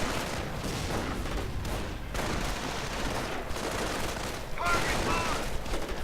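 Mortar and machine gun fire in a WWII strategy video game, a steady churn of overlapping shots and blasts heard at a moderate level, with someone talking over the top throughout.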